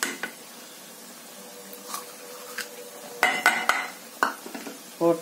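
Gram flour stirred into a paste in a bowl, with soft wet scraping and several spoon knocks against the bowl's rim, close by and intermittent.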